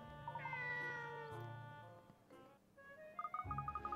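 A cat meowing in the Katrielle Layton video game, several clear, drawn-out meows in a row, then a quicker run of short chirping mews at the end, near and alone.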